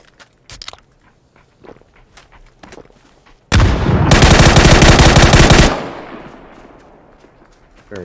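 Sustained automatic gunfire from a PUBG battle, a loud dense burst lasting about two seconds after scattered lighter shots and clicks, then fading echo.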